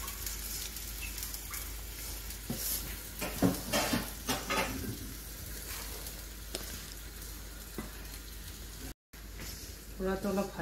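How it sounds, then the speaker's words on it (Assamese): Ground rice flour frying in a pan, with repeated scraping and stirring strokes, clustered around the middle and again near the end, over a soft sizzle. A fowl or chicken may be faintly audible in the background. "গুড়াটো খুন্দি কেনে ভাজি ল'লোঁ এতিয়া।"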